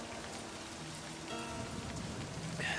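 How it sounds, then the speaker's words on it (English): Steady rain pattering on surfaces in the game Livber: Smoke and Mirrors, a continuous even hiss of drops with no talk over it. "standing here in the rain"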